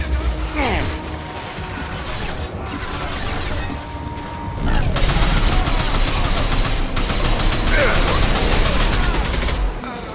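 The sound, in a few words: gunfire in the video game Mass Effect 2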